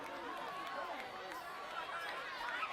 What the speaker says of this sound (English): Wow, great crowd out here.